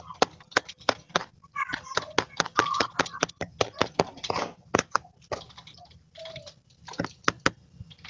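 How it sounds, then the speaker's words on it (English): Rapid, irregular clicks of keys being struck on a computer keyboard, close and crisp, with a few faint voice fragments in between. "Is Jason the one typing like mad?"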